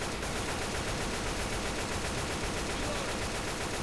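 Dense, continuous gunfire from several weapons in a video game, aimed at a horde near a stable, forms an unbroken, loud, rapid rattle with no pauses or voices.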